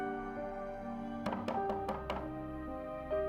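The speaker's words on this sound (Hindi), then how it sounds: "उसके कमरे के पास गया, उसका दरवाजा खटखटाने लगा।" Four or five quick knocks rap on a door in a short, evenly spaced burst over a low sustained musical drone, fairly quiet, with no talking.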